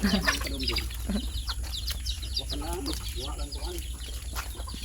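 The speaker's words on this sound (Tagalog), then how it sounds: "Wow, daming manok." Chickens clucking and squawking close by in a busy farm flock, with people talking and laughing over them.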